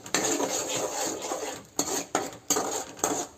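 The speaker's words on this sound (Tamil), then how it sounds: "இப்போ அரைச்சி வச்ச முள்ளங்கி அதில் ஊற்றணும். ஊற்றி நல்லா கிண்டிக்கிட்டே இருக்கணும்." Ground radish halwa stirred in a pan, a spoon scraping and knocking against the metal in repeated strokes, close and fairly loud with no talking.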